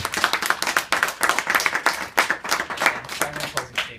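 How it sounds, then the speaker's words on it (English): Applause from a small audience at a debate, distinct individual hand claps in a quick, uneven patter, fairly close and lively throughout. "Let's give them a round of applause."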